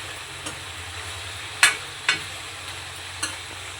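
Chicken deep frying in oil hisses with a steady sizzle, punctuated by a few sharp spatula clacks against the pan.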